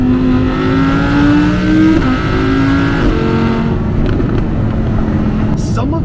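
An Audi R8 with a V10 engine revs and accelerates from inside the cabin, its exhaust note climbing through gear shifts under steady road noise, while someone talks over it.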